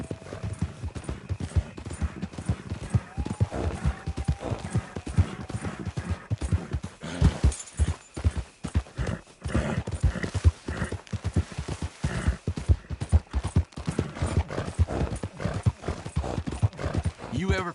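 Steady clip-clop of horse hooves at a walking pace in Red Dead Redemption II, close and rhythmic, with someone talking over it and occasional horse snorts.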